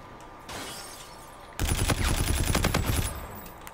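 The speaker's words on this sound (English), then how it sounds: "Is that a micro turret I hear? Yes, it is." A micro turret fires in the Call of Duty Infinite Warfare video game: a fast, loud, rattling stream of shots that starts abruptly and runs for about a second and a half, after a quieter stretch of ambient game noise.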